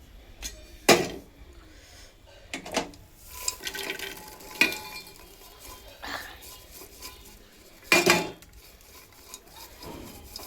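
Spicy street-style corn is tipped from a pan into a bowl, bringing a few loud, separate clanks and scrapes of metal cookware between quieter rustling in an indoor kitchen.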